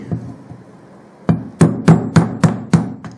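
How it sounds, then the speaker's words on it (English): Sharp metal hammer blows drive a screwdriver in as a wedge to knock a bearing off a motorcycle fork part: one strike, then about five quick, evenly spaced ringing hits, close and loud, with no talk. "You're just driving the screwdriver in as a wedge. You're driving that bearing off."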